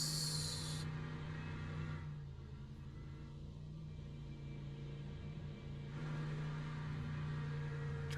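Race car pulling out of the pits in the Le Mans Ultimate sim, a steady low engine drone with hiss above it that dips briefly and then rises again, continuous and without speech.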